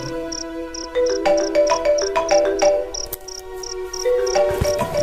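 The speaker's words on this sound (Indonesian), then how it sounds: "handphoneku berdering" A mobile phone's repeating electronic ringtone chimes in a steady pulsing pattern, with melodic tones underneath, clear and close with no talking.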